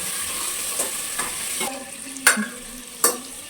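Peanuts with vegetables frying in a pan, stirred with a utensil: steady close sizzle under a few sharp scrapes and clacks against the pan, no one speaking.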